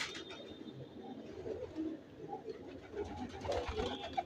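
Pigeons cooing in a loft, including a pair bought at a Friday market, with repeated soft rolling coos from several birds close by amid rustling and faint background noise.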